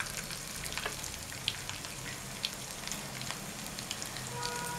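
Garlic frying in hot oil for tempering a dry prawn dish, a steady close sizzle with light crackling pops throughout, no voices.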